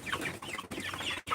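Broiler chickens about six weeks old clucking close by, a dense, continuous mix of overlapping clucks and murmurs from a flock with no voices over it.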